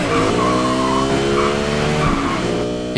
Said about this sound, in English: Lexus launched a legendary exotic coupe that offered superior execution, new manufacturing technology, and a V10 soundtrack that still delights enthusiasts.